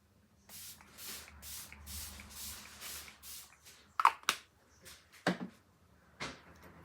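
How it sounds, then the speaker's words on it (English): A makeup setting spray misted in several short bursts near the microphone, a quick run of soft hissing pumps followed by sparse, sharper sprays and faint handling rustle. "Setting spray."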